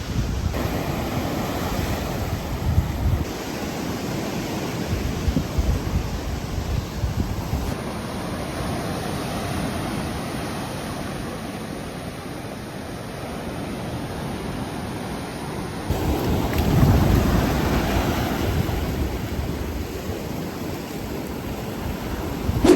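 Surf rolls steadily onto a beach at Rincón, Puerto Rico, a continuous broad wash of breaking waves with wind buffeting the microphone, swelling louder near the end.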